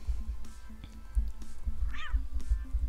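A cat in the video game Always Sometimes Monsters gives a short, clear meow over a low, steady game soundtrack with soft rhythmic thumps.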